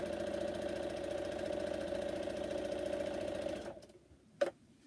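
An electric sewing machine used for quilting whirs steadily and close for almost four seconds, then stops, followed by a brief sharp click and near silence.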